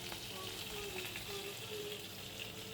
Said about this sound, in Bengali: এখানে পরিমাণ তেল গরম করে নিয়ে মাছটা আমি ভেজে নিচ্ছি।